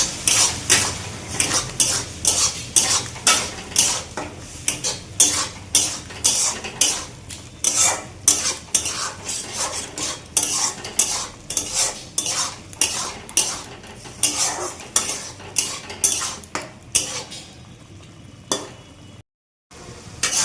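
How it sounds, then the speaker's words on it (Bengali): A spatula rhythmically scrapes and clanks against a metal pan while taro leaves (kochur shag) cook, producing repeated loud strokes over a soft sizzle before a brief pause near the end. "একটু নাড়াচাড়া দিয়ে দিচ্ছি"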